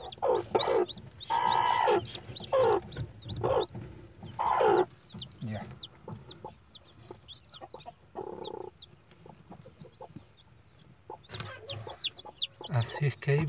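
A mother hen with ten newly hatched chicks clucks in short, repeated bursts while the chicks peep in high, thin chirps around her, and someone talks now and then close by.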